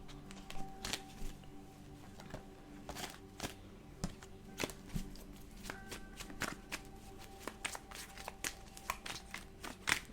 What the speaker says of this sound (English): do you see how these cards are flying?